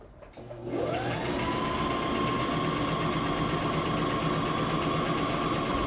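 A sewing machine starts up and stitches a dress facing, whirring steadily and loudly after a short quiet moment, with a constant motor hum and no talk.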